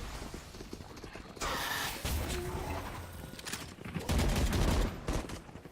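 Rapid bursts of pistol gunfire in a Valorant pistol round, dense crackling shots with loud stretches over a busy game mix, no speech.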